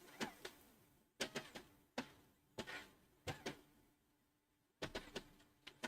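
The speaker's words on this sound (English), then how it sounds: "looking at the printer, it's making a weird noise" An office printer making odd mechanical noises: clusters of sharp clicks and clunks in irregular bursts with short quiet gaps, moderately close and without talk.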